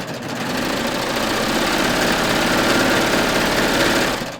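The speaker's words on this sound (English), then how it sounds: "So I'm just going to start stitching again." A Baby Lock serger running while stitching a cover hem, a loud steady motor whir with rapid needle rattle, close and continuous for several seconds, no talking.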